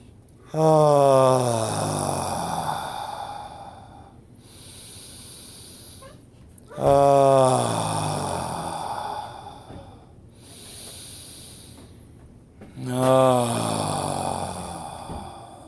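Deep breathing during a guided meditation, three slow cycles of a strong nasal inhale followed by a long airy exhale, close and loud with brief quiet gaps between breaths.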